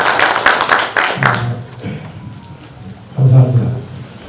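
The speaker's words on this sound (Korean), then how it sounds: "큰 박수로 맞이해 주시기 바랍니다." Brief burst of audience clapping welcoming a guest lecturer at the Ildu Seonbi Academy, about a second of dense claps that fades as a voice begins speaking.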